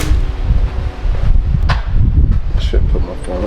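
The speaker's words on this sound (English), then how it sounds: "It's super windy out here." Strong Santa Ana wind buffeting a phone microphone outdoors, low rumbling gusts that rise and fall under a voice.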